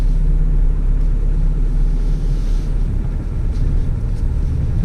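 Road traffic in Australia heard from a walking track, a loud continuous low rumble of passing vehicles with some wind buffeting on the microphone.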